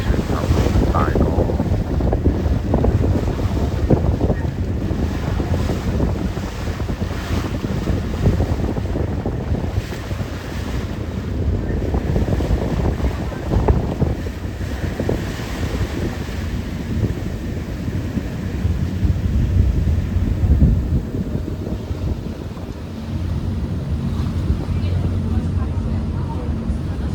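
A Star Ferry boat moves across the harbour in Hong Kong, with strong wind buffeting the microphone and water rushing alongside the hull, while people talk throughout.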